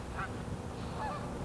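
Ducks at a duck pond give two short honking calls about a second apart, mid-distance, over a steady background rumble.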